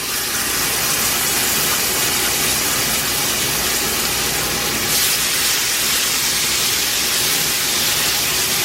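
Pork chops frying in an orange molasses marinade in a pan, a dense, loud, continuous sizzle and hiss with no pauses and no talk.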